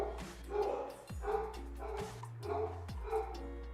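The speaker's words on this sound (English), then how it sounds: "These dogs are going insane downstairs." Dogs barking downstairs during a home live stream, several muffled yips and barks heard from another floor in bursts, faint and distant over a low steady hum.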